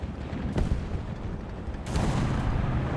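Distant heavy boom of an enemy tank cannon firing in War Thunder, one soft thud early and a second rumbling blast later, both muffled under a steady engine drone.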